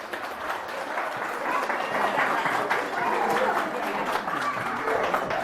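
An audience at a tradition-themed community event in Goraj applauds steadily and warmly, many hands clapping together in a sustained wash that swells slightly after the first second.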